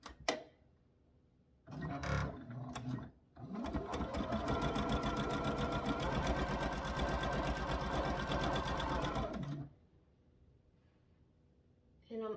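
A sewing machine joins quilt pieces for a sugar cookie quilt, starting with a short burst, then running in one long, steady, close-up stretch of rapid stitching before stopping; the room is otherwise quiet between runs.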